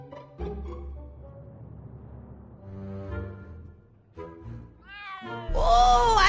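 A video game cat named Ms. Pretty Whiskers meows in a few drawn-out, pitch-bending calls over a quiet game soundscape, ending in a louder, higher cry; no one speaks.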